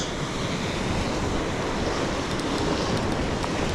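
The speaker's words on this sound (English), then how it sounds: "Waves are looking good." Ocean surf breaking and washing along the shore at a bonito shore-jigging spot, a steady loud broadband roar with some wind buffeting the microphone and no talk.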